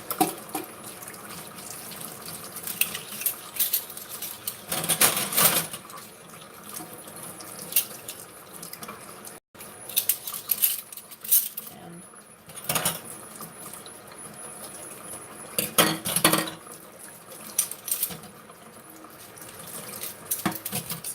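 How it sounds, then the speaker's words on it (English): Silverware and dishes clatter and clink in bursts during a room clean-up, with running water and sink sounds mixed in, moderately close and without talk. "All this silverware should be pretty good still"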